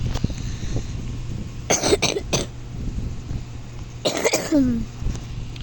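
A few sharp coughs come in two short bursts, one pair near the start and another a couple of seconds later, over a low background hum.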